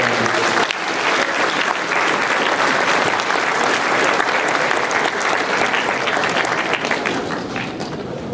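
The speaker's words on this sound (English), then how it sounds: "So round of applause for all our parents and families." A crowd at Middleborough High School's winter sports awards night applauds parents and families. The clapping is loud and continuous, a full wash of sound with no voices over it.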